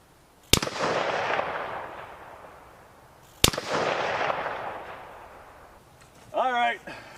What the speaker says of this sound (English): put more rounds down range